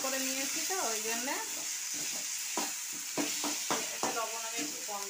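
Spice paste stirred and fried in a pan for a Bengali kalbos fish curry with elephant foot yam, a steady close sizzle running throughout while a voice talks over it.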